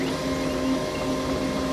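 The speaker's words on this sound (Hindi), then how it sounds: "प्रिंटर से ब्लैंक प्रिंट्स निकल रहे थे" A printer running on its own and feeding out blank pages, giving a steady mechanical hum with a constant whirring tone, close and moderately loud with no voices.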